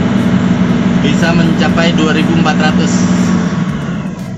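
A Scania truck engine holding a steady high idle, a continuous loud drone under someone talking throughout.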